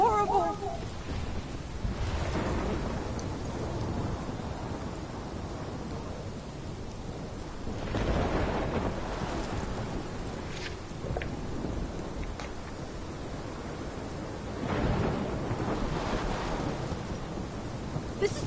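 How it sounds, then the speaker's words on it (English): A thunderstorm with steady rain in the Life is Strange Remaster video game: continuous dense hiss of rainfall with deep rolling thunder swelling three times, loud and enveloping throughout. "This is my storm."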